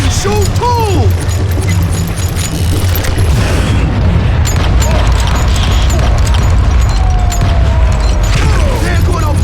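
Gunfire and explosions in the Western shooter game Call of Juarez Gunslinger: loud, continuous rumbling booms and rapid shots fill the whole stretch, with whistling ricochets and clanking mechanisms layered over a dense low roar.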